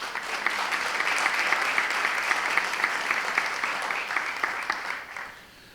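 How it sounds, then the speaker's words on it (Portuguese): Audience applause at an event on integrity as a management tool, steady even clapping from a moderately distant crowd that fades out at the end. "Bia Chaves, que também merece uma salva de palmas"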